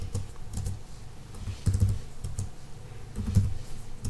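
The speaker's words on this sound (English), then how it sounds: "Type in some numbers." Numbers typed on a computer keyboard, a close series of light, quick key clicks in small uneven bursts, with no voices.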